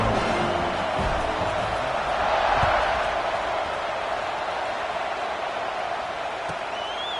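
A football stadium crowd late in a tied fourth quarter, just before a kickoff, makes a steady, broad roar of cheering that swells slightly mid-clip and holds at a loud, sustained level throughout.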